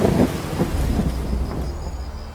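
Rain falls steadily on the African savannah while low thunder rumbles. The thunder is loudest at the start and fades under the hiss of the rain, and no one speaks.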